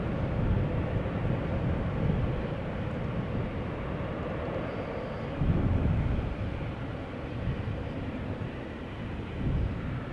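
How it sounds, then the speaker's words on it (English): Airbus A330 jet departing Amsterdam Schiphol Airport under a low, humid cloud ceiling, a steady broad engine roar with rumbling low end that swells briefly a few times, heard alone without talk. "You can see the the wingtip vortices of the departing A330 just now."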